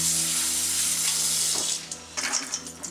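Beans get a rinse under a running kitchen faucet, a steady close hiss of streaming water that splashes and sputters unevenly toward the end.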